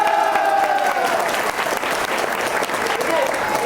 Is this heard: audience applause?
yes